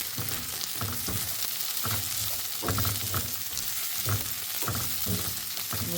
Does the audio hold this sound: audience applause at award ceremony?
no